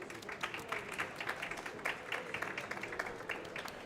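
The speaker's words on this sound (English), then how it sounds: "just a round of applause for you both." An audience applauds at a climate action event on local ocean-based pathways: a dense, steady patter of many hands clapping that continues evenly throughout, at moderate distance, with no talk over it.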